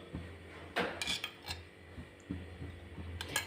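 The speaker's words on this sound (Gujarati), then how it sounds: "પેનમાં આપણે એક ચમચી જેટલું ઘી એડ કરીશું" A spoon clinks and scrapes against a pan as a spoonful of ghee goes in, a handful of light metallic taps and rubs, close and quiet.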